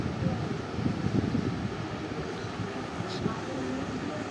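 AC local train on the Bangaon–Sealdah line pulling into the Sealdah car shed, a steady loud rumble and roar of wheels and motors filling the whole stretch with no clear breaks.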